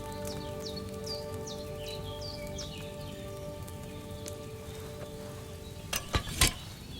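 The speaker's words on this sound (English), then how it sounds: "Hear that bubbling? It's boiling." A cauldron boiling over a flame in Kingdom Come: Deliverance II: soft bubbling and popping over a steady hum, with a few chirpy sound effects early on and a couple of sharper pops near the end.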